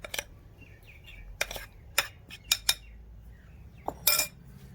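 Coconut sambol is pounded in a stone mortar, with a series of sharp, irregular stone-on-stone knocks and clinks against a quiet background, faint bird chirps in between.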